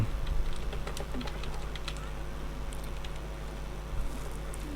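Rapid, irregular clicking of computer keyboard keys, close and fairly steady over a low background hum.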